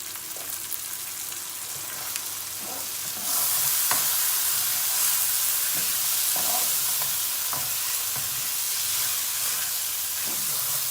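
Rice is stir-fried in a pan with roasted mint, giving a steady hiss of sizzling. The sizzle swells louder partway through, with repeated scraping stirs of a utensil against the pan close by and no voices.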